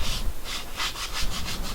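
Sandpaper of P240 grit rubbed back and forth over a printed circuit board, a close, steady scratchy rasp repeating in quick, even strokes.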